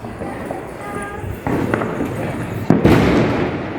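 Diwali firecrackers burst along a village street in Telangana on festival night: two sharp, loud bangs, each followed by crackling and rumbling, heard over a low murmur of background noise.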